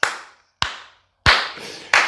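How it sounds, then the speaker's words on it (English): Four sharp claps at an uneven, unhurried pace, each with a short trailing echo, the last two louder and fuller, with no voices. "that round of applause is for the FBI"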